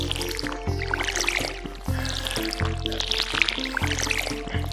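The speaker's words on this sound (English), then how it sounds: "I'm going to have to go in here and water all of these things" Crops being watered in the farming game Stardew Valley, with repeated short splashy watering-can sounds and drips over a constant background music tone, several pours in quick succession.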